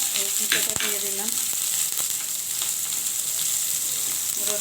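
Onion, garlic and chopped ingredients sizzle in hot oil for a jute-leaf bharta, a loud, steady frying hiss with a few stirring clatters near the start.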